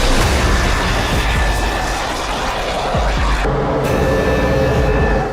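A fighter jet passes overhead in a loud, sustained roar of broadband engine noise. The roar swells and holds, then shifts partway through with a few thuds underneath.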